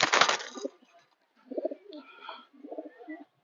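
A full-spring Kaldom pigeon pair, male and female, cooing in a loft: a louder rough burst at the start, then two separate soft, throaty cooing bouts close by, with quiet gaps between.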